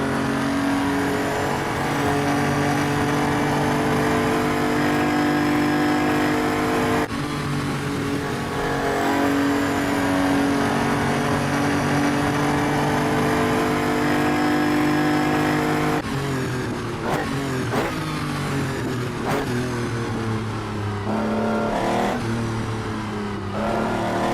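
A video game car engine, heard from the interior, hums and revs steadily for a long stretch, with shifts in pitch as it accelerates and eases off, loud and continuous with no talking.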